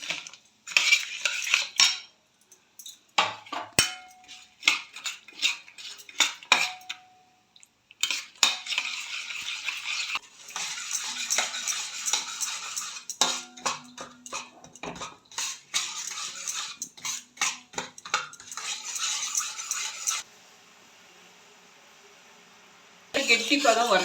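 A metal spoon scrapes and clinks steadily against a heavy pot while stirring jaggery syrup, repeated stirring strokes with a low bubbling hiss in between.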